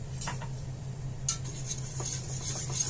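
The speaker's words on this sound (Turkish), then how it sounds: "Şimdi güzel bir karıştıralım." A utensil stirs sugar and starch in a pot for Turkish delight, making faint, sparse scraping and light ticks against the pot. A low steady hum runs underneath.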